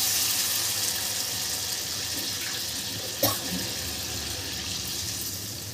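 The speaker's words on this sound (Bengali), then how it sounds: "এবার দিয়ে দিচ্ছি জল।" Water pours into a curry pan of fried papaya and potatoes cooked down with spices, a steady close rushing hiss running throughout with one brief louder splash partway through.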